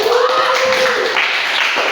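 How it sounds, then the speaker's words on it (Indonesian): Classroom applause from a group of students clapping their hands, a dense, even patter of many claps holding steady for a couple of seconds with a faint voice underneath. "Berikan tepuk tangan semuanya."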